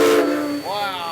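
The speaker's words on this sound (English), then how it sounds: "The train sounds like this." A real steam train's whistle pulled from inside the cab, a loud, close, hissing tonal blast that drops in pitch and then sounds again as a shorter rising call.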